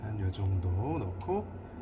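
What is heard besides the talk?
No everyday noise stands out behind the speech.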